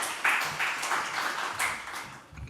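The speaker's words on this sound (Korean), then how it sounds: "따뜻한 환영의 박수로 환영합니다" Church congregation applauds to welcome a pastor, a steady burst of clapping from a full room that swells and eases over a couple of seconds, with no talking over it.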